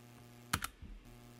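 A couple of sharp, close keystrokes as the Enter key is pressed on a computer keyboard, a quick double click followed by a softer thud, in a quiet room.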